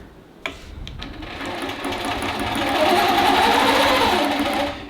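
A sewing machine stitches a Lady Jane Mary Beth quilt pattern, its steady, loud whirring hum building up and holding close for several seconds after a brief click at the start.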